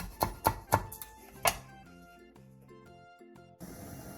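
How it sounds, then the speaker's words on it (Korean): Knife chopping green onion that has been halved lengthwise: four quick, crisp cuts in a short burst, then a soft melodic tune plays alone. "대파 1/3개를 길게 반으로 가른 뒤 쫑쫑 썰어주세요"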